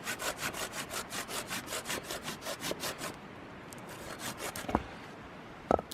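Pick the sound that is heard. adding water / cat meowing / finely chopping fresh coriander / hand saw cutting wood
hand saw cutting wood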